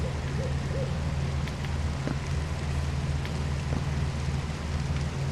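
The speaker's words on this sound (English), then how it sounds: "There's a little bit of rain." Steady rain in the video game Citadel: Forged with Fire, a continuous hiss of falling drops at constant loudness throughout, with a low rumble underneath.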